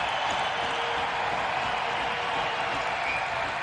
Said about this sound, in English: Mine is the roar of the crowd.